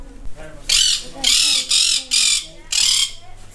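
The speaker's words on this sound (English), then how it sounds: "You're a noisy little bird, aren't you?" A noisy little bird in a garden lets out five harsh, loud squawking calls in a stop-start rhythm, close by, with faint softer sounds at the start.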